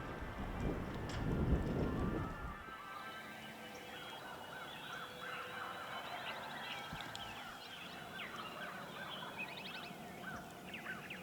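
Wild turkeys gobble faintly from a ridge across an Iowa valley, small distant calls scattered through a quiet outdoor scene with other birdsong. A brief louder rustle comes near the start.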